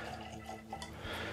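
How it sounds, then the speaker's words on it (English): Old Forester bourbon whiskey pours into a glass, a short, close liquid trickle and fill heard on its own. "we're just going to have a nice hefty pour of this one"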